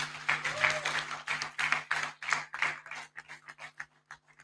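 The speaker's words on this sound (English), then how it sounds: "Please, can we give Comrade Ibrahim Abdallah another round of applause, please?" A modest audience claps at an academic symposium and luncheon, a lively burst of applause that thins into scattered individual claps and fades out over a few seconds.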